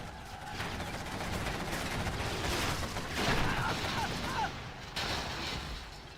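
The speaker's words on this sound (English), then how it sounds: "Here's the artillery barrage." Artillery barrage in a real-time strategy game, a continuous mix of rapid explosions and gunfire pounding for several seconds, with brief sweeping effects.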